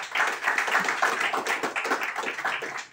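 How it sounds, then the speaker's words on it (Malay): A meeting audience claps in a lively, dense burst of applause for a sales and marketing department head, many hands beating quickly and fairly close, with no talk over it. "tepukan gemuruh juga"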